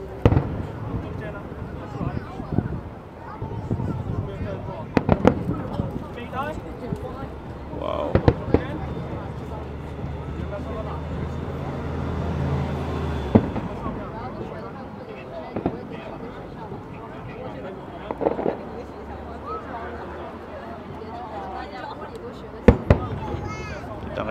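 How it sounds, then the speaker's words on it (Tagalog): Fireworks display at the Macau International Fireworks competition, with the Macau Tower in view: bursts and cracks boom across a busy crowd, loud pops standing out now and then over steady background noise and voices. "Fifteen minutes lang itong fireworks na to guys."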